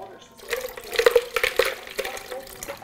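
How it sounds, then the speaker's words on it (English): Water poured from an ice cream maker bowl into another container, a soft uneven splashing and trickling that comes in close, irregular bursts for a couple of seconds. "I'm going to pour some of my water back into this other container"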